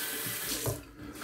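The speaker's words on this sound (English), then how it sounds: "I'm gonna rinse with cold water." A sink tap runs cold water for rinsing after a shave, a close, steady splashing flow with a brief gurgle partway through, heard alone.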